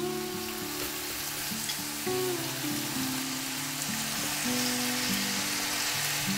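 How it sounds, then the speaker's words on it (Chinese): Mushrooms stir-frying in a pan with soybean paste make a dense, continuous sizzle. It stays fairly close and even throughout, with a tuneful background melody playing underneath. "我们把这个菇类炒死之后呢，稍微把火关小"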